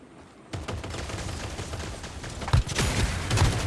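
Turret gunfire in the Modern Strike Online shooter game, a favela map: sustained rapid shots rattling continuously for several seconds after a quiet start, with heavier bursts near the end, no talk.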